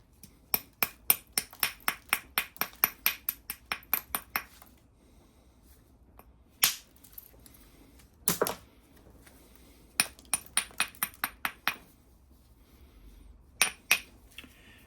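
Stone knapping by percussion to strip off cortex: sharp, clicking strikes ring out close by in quick runs of about ten blows, then isolated single and double hits separated by quiet gaps.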